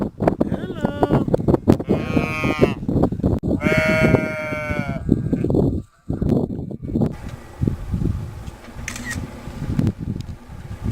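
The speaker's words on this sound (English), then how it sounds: "Hey sheep." White and brown sheep bleating repeatedly in rural Irish countryside near a B&B, loud harmonic cries close by, with a person talking briefly between calls.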